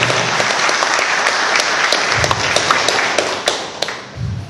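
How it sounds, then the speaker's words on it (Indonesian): Loud applause from a motivational seminar audience, steady clapping that fills the room for several seconds before thinning out at the end. "Kasih tepuk tangan ya"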